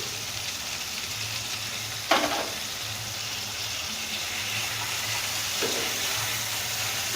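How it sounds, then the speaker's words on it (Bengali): Grated ginger and ash gourd cook in a pan with a quiet, steady sizzle, broken by a clatter near two seconds and a softer one near five and a half as the mixture is stirred. "আবারও কিন্তু আমি 2-3 মিনিট এইভাবে আদার সঙ্গে আর চাল কুমড়োর সঙ্গে এভাবে মিশিয়ে রান্না করে নেব।"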